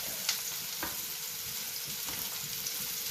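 Fish roll frying in oil, a steady soft crackle and sizzle close by with a few small pops, continuous and fairly quiet with no voices.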